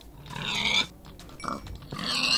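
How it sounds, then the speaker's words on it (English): Minecraft pigs grunt in two short nasal bursts at the start and end, with lighter rustling between them, close and clear. "Don't want to kill off all the pigs,"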